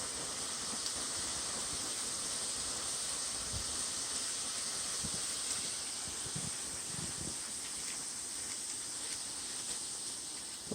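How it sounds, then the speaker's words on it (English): Steady bubbling and hissing of water boiling on a hot stone-bottomed fire pit, a constant close simmer with small pops, fairly quiet and with no talking. "You see how that water's boiling?"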